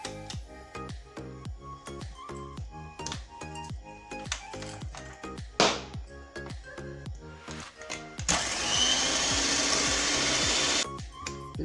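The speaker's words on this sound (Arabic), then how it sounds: "Je vais battre mes jaunes d'œuf avec le sucre jusqu'à blanchissement." Egg yolks are beaten with sugar and vanilla in a bowl, first as a rapid series of sharp, rhythmic taps and clatters. A loud whirring mixer burst follows near the end, close and unaccompanied by talk.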